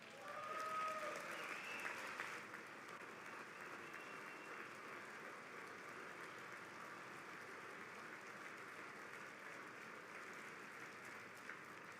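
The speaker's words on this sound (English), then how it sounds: "I wasn't sure if anybody even on this side was going to applaud for that" Members of Congress applaud during a presidential State of the Union address, a faint, distant, steady wash of clapping that carries on evenly throughout, with a brief voice at the start.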